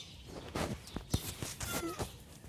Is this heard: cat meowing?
yes